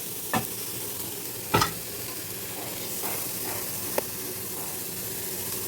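Onion and garlic sautéing in a hot pan for a rice dish: a steady sizzle and hiss with a few sharp stirring scrapes and clinks, close and alone.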